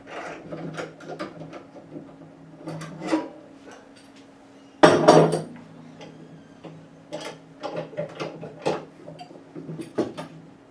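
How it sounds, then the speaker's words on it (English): Metal clamps are loosened and removed from a bent Squier Stratocaster guitar neck, giving a run of close, sharp clicks, ratcheting ticks and clunks with one louder knock midway, with no talk. "That's the clamp sound"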